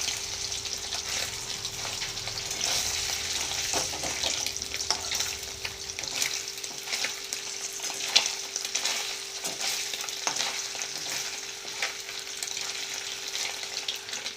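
Paneer fries lightly in oil in a pan, giving a steady soft sizzle with occasional clicks of stirring, moderately close and with no talk.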